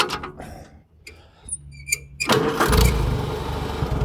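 A farm tractor's engine catches and settles into a steady low idle after a few brief clanks and clicks, close by and fairly loud, with no talking over it.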